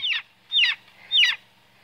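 Young chicks that are growing up give three loud, clear peeps, each a sharp descending chirp, spaced evenly about half a second apart against a quiet background.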